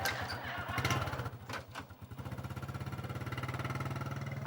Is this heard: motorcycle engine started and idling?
yes